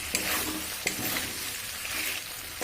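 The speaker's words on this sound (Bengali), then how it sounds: "এবার আমি যে আলুটা ভেজে রেখেছিলাম আলুটা দিয়ে দেব। দিয়ে আর একটু সুন্দর করে কষিয়ে নেব।" Fried potatoes are stirred and sautéed in a spice masala, a close, steady sizzle broken by a few sharp scraping strokes of the spoon against the pan, with no voices.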